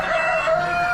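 A rooster crows at an Amish animal auction spring sale among Old English game chickens, a single sustained, fairly loud call with no talk over it.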